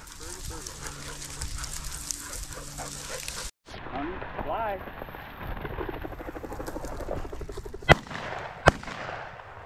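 Two sharp, loud gunshots crack out near the end of an upland bird hunt in Tennessee, following a stretch of outdoor bustle with people talking and a dog nearby.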